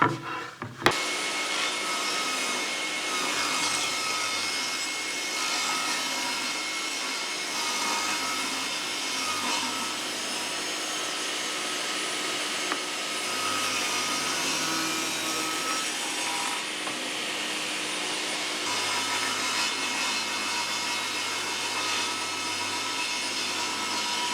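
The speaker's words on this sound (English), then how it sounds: "so we're going to rip these boards down" Wooden boards being ripped to width on a saw for dovetailed keepsake boxes, a steady loud whining cut running nearly unbroken throughout, with slight shifts in load as the blade feeds through the wood.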